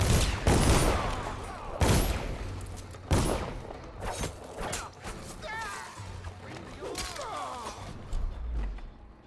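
Gunfire rings out in Dishonored, a series of loud, sharp shots spaced a second or so apart, mixed with crashes and clanking mechanisms, and a voice talks between the bursts.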